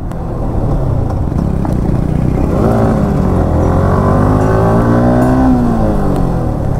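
Loud, steady engine noise with pitch repeatedly climbing and dipping as motorbike engines rev hard in a drag race close by.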